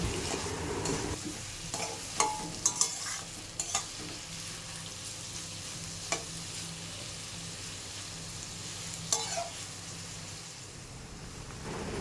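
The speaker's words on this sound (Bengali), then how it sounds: "আমি ব্রেস্তা বানানোর জন্য কড়াইতে সয়াবিন তেল দিয়ে ব্রেস্তাটা বানিয়ে নেব।" Onions for birista fry in soybean oil in a wok, giving a continuous hissing sizzle with occasional spatula clinks and scrapes as they are stirred, close and moderately quiet throughout.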